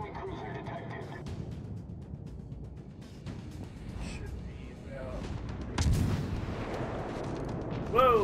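Warship guns firing in the World of Warships naval combat video game, heard as several booming blasts over rumbling battle noise, with a heavier salvo near the end; someone talks over it.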